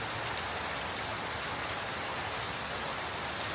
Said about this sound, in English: Rain in the Cambodian mangroves.